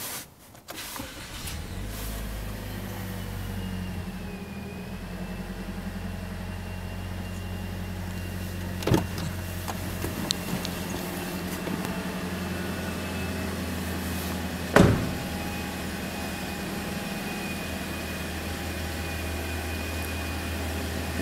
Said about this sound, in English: Let's give it a start.